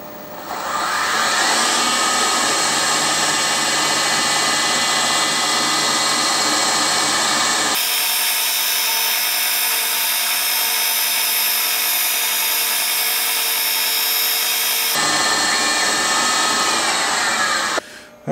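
Machining a cut on a metal piece, a loud, steady, close mechanical whine and rush with a sharp change in tone partway through before returning, ending abruptly.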